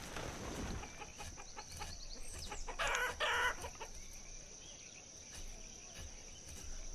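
Chickens in a chicken pen in the village-building game Banished cluck and crow over a steady bed of chirping crickets, with a brief louder burst of squawks midway, all fairly faint and without speech.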